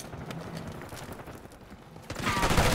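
Rapid automatic gunfire in the Black Ops 6 beta on the Kill Order mode, SCUD map, a fairly dense burst of shots that swells louder toward the end, with mechanical clatter and no talk.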